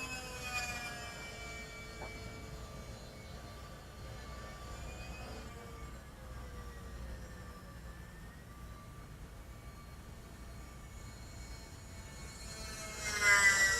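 An E-flite Aero Commander RC plane makes a fast pass at roughly half throttle. Its electric motor whine is faint and distant, sweeping slowly in pitch as it goes by. No talk is heard.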